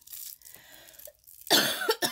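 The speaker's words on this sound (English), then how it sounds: "Excuse my coughing." A short, sharp cough from a person with a cold rings out after a brief pause, then a second burst of coughing, close and fairly loud.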